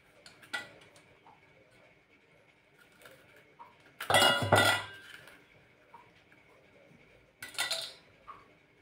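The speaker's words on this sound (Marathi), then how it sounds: "बघा सहज अशा पद्धतीने ही कारलीची बी काढून घ्यायची।" Seeds being scooped out of hollowed bitter gourds with a utensil, giving a few close clattering, scraping bursts against a bowl, separated by quiet stretches with a faint steady room hum.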